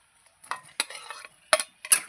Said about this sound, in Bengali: আলু আর পনির দিয়ে আমি এখন আর একটু ফোটাবো।